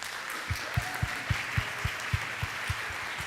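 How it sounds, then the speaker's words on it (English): Applause at a council general assembly meeting, with a steady rhythmic beat of clapping, roughly three to four claps per second, fairly close and even over a broad room wash. "I would like to get one more round of applause to Sude Oner."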